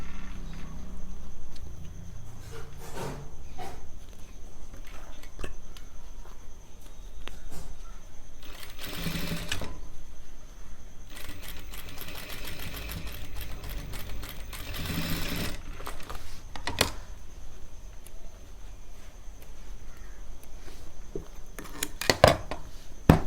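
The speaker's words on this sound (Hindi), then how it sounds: "हम इस पे सिलाई मार देंगे। ऐसी तरीके से हमें इधर भी इसको पलट करके और सिलाई मारनी है।" A sewing machine stitches a boys' tuxedo in several bursts, including two longer runs of rapid whirring, separated by quieter handling and rustling of the fabric.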